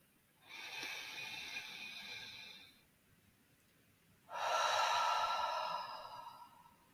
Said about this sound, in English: release the air through your mouth